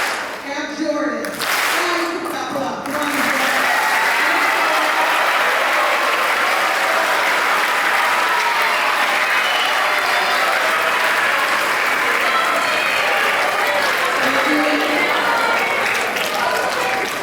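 A school auditorium audience applauds loudly for beginning band student award nominees at a middle school end-of-year band concert, with a few scattered claps at first and then sustained, full applause filling the rest.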